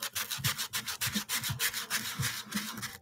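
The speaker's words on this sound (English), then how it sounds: "Why are you sanding a guitar?" A guitar body being sanded by hand, quick rhythmic back-and-forth rubbing strokes, close and fairly quiet, about six passes in three seconds with no talk.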